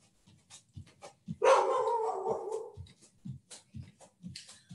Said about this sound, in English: I apologize, that is my puppy.